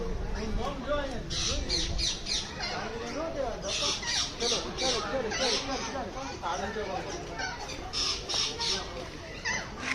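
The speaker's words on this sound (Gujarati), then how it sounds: "જો પોપટ હાલે કેમ બોલે" A parrot at Sakkarbaug Zoo squawks repeatedly in harsh, sharp bursts while people talk nearby.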